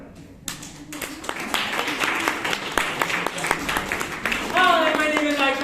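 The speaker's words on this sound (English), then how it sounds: "Please welcome with a loud round of applause the table topic master" A studio audience gives a loud round of applause and cheering to welcome the host onstage at a Whose Line Is It Anyway? improv taping, dense clapping throughout with whoops and a rising cheer near the end.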